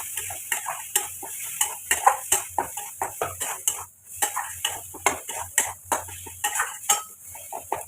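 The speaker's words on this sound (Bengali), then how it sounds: "ভেজে রাখা আলুটা দিয়ে কষিয়ে নেবো একটু" A spoon scrapes and clinks steadily against a metal pan as fried potatoes are stirred and tossed, with a rhythmic series of close, bright strokes over a faint sizzle; no talking.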